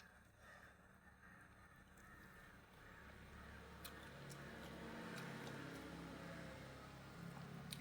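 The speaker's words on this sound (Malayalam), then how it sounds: "കാക്ക പിന്നെ വന്നു." A crow caws a few times outdoors, fairly faint and somewhat distant, over a low, steady hum of passing vehicles and background ambience.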